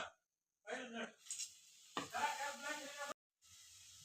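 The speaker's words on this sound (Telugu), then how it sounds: "ఆయిల్ వేడనేది ఇప్పుడు డీప్ ఫ్రై చేసుకుందాం." Masala-coated peanuts deep frying in hot oil, sizzling close up in short bursts separated by brief quiet gaps.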